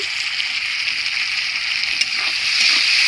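Ginger paste and chili powder sautéing in a pan for a vegetarian chickpea dal with jackfruit, a steady, close hiss of frying that swells slightly near the end.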